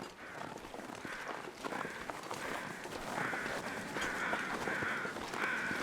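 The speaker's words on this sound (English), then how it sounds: "those are weather crows or carrion crows" Crows caw repeatedly in the snowy wilderness of the video game The Long Dark, a series of harsh calls that grow steadier and a little louder over a soft background wind.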